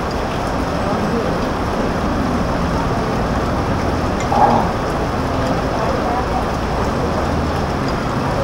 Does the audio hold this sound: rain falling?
yes